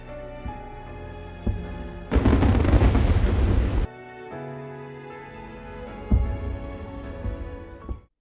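Fireworks explode at a celebration, one dense, roaring burst lasting nearly two seconds over soft sustained music, followed by a few duller, distant booms.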